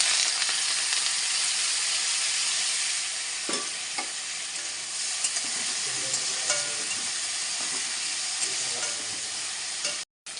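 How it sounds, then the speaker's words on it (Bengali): Chopped potato and onion frying in white oil in a wok, a steady bright sizzle with occasional stirring clicks and scrapes, close and continuous before a brief cut near the end. "এবার কেটে রাখা আলু আর পেঁয়াজটা দিয়ে দিচ্ছি তেলের মধ্যে।"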